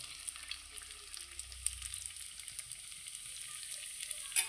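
Salted egg appam batter cooking in a hot pan, a soft continuous hiss and faint sizzle, quiet and steady with no talking.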